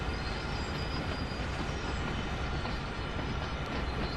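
A video game train in Train Sim World 2 on Sand Patch Grade rumbles steadily past with broadband rolling noise and faint clacking, continuous and fairly close throughout.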